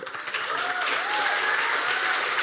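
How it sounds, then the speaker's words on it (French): Audience applause fills a French film conference hall about the horror film Vermines, a steady dense wash of clapping from a crowd, sustained and fairly loud throughout with faint voices beneath. "Voilà, donc vous pouvez les applaudir."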